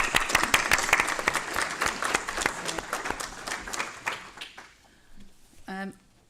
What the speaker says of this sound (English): So I just want to give a round of applause in absentia for Tilly.